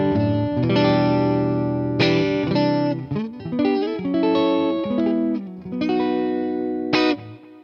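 Electric guitar played through a TONEX amp model with a custom impulse response gives distorted chords and riffs with sharp attacks and sustained, ringing tails, loud and alone with no talk.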